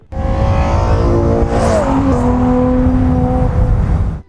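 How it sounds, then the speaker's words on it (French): A Ferrari Purosangue SUV's naturally aspirated 6.5-litre V12, a loud, close, sustained engine roar whose pitch shifts partway through, then holds steady before easing off. "c'est un V12 atmosphérique que vous entendez là"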